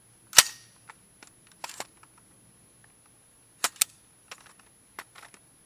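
Rifle fitted with a Slidefire stock fired in sharp cracks, one loud shot followed by scattered quicker bursts and single pops at moderate distance, with quiet gaps between.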